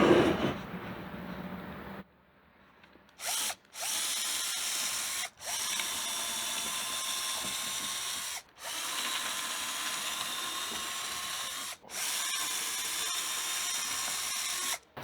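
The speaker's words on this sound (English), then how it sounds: "let's not drive the drill on top of the solar panel" Power drill in a scrap wood DIY solar driveway lighting build, whining loudly and steadily in repeated long runs separated by brief stops, each burst starting and cutting off abruptly, close up and alone.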